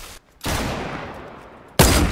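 Gunfire bursts in a first-person shooter game: a sharp volley cuts in, rattles on steadily, then a second loud burst erupts near the end, with no talking.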